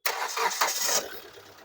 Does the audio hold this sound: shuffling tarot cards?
no